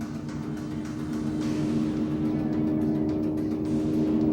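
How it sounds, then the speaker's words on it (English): Land speed record car accelerating past 100 mph, a steady droning engine roar building slightly in loudness, heard from a distance without talk. "With a record run at hand, the vehicle accelerates through 100 miles per hour."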